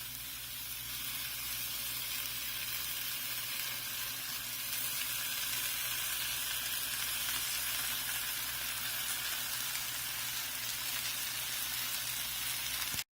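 Sauce being stirred into Sriracha peanut ramen noodles in a hot pan gives off a steady, even sizzle with a soft hiss. It carries on without a break for the whole stretch, with no talking.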